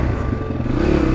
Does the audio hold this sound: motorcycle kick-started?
yes